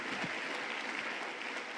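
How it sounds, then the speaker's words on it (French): A church congregation applauding at a sermon, a steady wash of clapping from many hands, moderately loud and continuous without a break. "Nous l'acclamons encore très fort."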